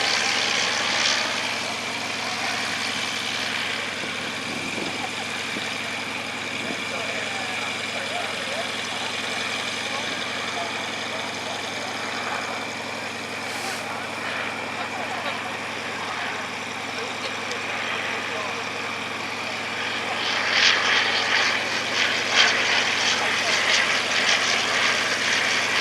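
A First World War Avro 504 biplane engine at a heritage airshow, a steady droning hum throughout at moderate distance, rising slightly louder near the end over broad outdoor crowd and wind noise.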